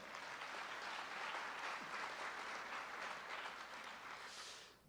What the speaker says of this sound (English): So give those 2 guys a round of applause.